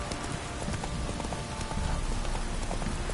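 Horse hooves clip-clop in The Witcher 3, a steady irregular patter of hoofbeats under a dense, loud noisy wash that sounds like rain or wind, with no talking.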